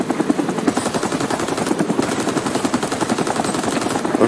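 A military helicopter in Rising Storm 2 Vietnam, its rotor thumping steadily and loudly throughout, mixed with dense, rapid machine-gun fire, with no talk.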